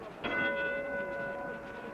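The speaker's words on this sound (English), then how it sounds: "Bell for the 4th" Boxing ring bell at the start of round 4 in the Floyd Patterson vs Ingemar Johansson rematch: a single bright clang with a long, steady ringing decay over faint arena murmur.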